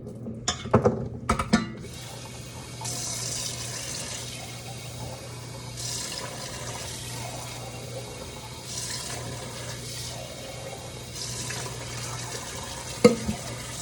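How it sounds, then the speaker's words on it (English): Tap water running over food in a colander, a steady soft hiss of flowing water with a few clattering knocks at the start and a brief bump near the end, close and moderately quiet. "Dump them into the colander. And rinse them out."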